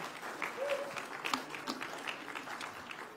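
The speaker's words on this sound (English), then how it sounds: "Come on, give him a hand clap." Church congregation applause, a dense patter of hand claps filling the room at moderate volume, with faint voices mixed in.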